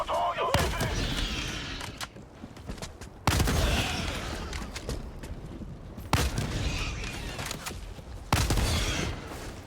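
Bursts of rapid gunfire in the video game Helldivers 2 cut loud and close through a battle, shooting flying Shriekers down, coming in several sustained volleys separated by brief pauses.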